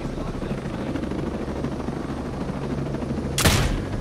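Helicopter in the shooter game Ghost Recon Breakpoint, its rotor chopping in a steady rapid beat, with a burst of gunfire near the end.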